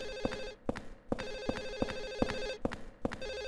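A telephone ringing in the video game Silent Hill 4, repeated rhythmic electronic bell trills at moderate volume with short gaps between rings.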